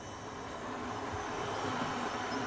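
A model train runs through a newly built tunnel on a layout, giving a steady, fairly quiet rolling rumble with faint rail clatter throughout, and no voices.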